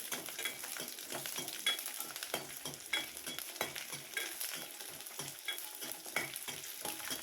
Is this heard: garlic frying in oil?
yes